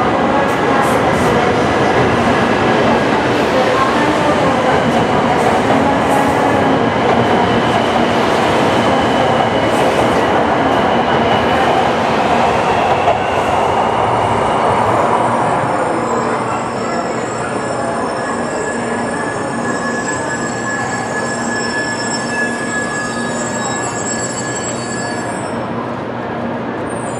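Doctor Yellow Shinkansen inspection train running on the rails, a loud sustained roar with high wheel squeal and rhythmic clatter that gradually fades and recedes toward the end.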